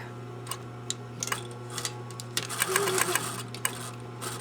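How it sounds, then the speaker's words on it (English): A sewing machine stitches to a marked dot and back tacks while sewing a gusset, with short rapid runs of ticking stitches separated by brief pauses, close and clear. "I want to sew exactly to that dot and back tack."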